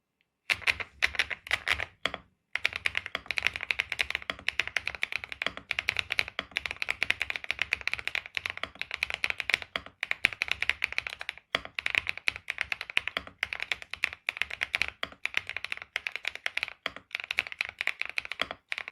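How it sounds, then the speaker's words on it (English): Mechanical keyboard with cross-shaped linear switches being typed on, a fast, steady stream of crisp clacking keystrokes with brief pauses, close and clear with no talking. "A cross-shaped linear shaft produces a slightly crisper sound."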